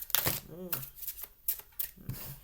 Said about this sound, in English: We're hard shuffling.